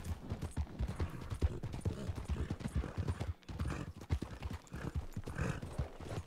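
Horse hooves from the video game Red Dead Redemption RP, a close, loud run of rhythmic clip-clops that keeps going with a brief pause midway, and there is a faint whinny.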